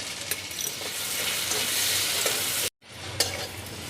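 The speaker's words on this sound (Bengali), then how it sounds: "এখন আলু ভাজার মধ্যে সামান্য একটু নুন দিয়ে নেব।" Lightly salted potatoes fry in oil with a loud, close, steady sizzle that cuts to silence for a split second before resuming, with a couple of soft utensil taps and no talking.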